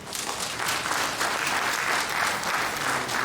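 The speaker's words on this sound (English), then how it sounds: "A round of applause for him." Sustained audience applause fills an inaugural lecture hall at a university, a dense, steady clatter of many hands that holds evenly throughout without a break.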